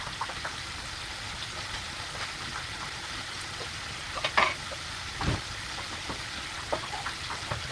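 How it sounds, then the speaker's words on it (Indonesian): Spice paste for ciwang broth sautéing in a pan makes a steady soft sizzle, with a few scraping stirs breaking through now and then. "Jadi sementara kita menumis si bumbu kuah ciwangnya"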